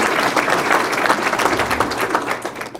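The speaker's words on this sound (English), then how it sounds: "that's a good thing to clap for" Luncheon audience at a chamber of commerce event breaking into applause, a loud, dense burst of many hands clapping close by that holds steady and begins to thin toward the end.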